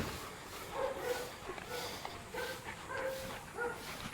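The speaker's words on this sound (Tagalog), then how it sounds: "maririnig nyo ang mga tahol ng ibang aso ko" Several dogs in a kennel give mild, soft woofs and yips in short groups, spaced every half second or so, fairly distant and low in level against a quiet background.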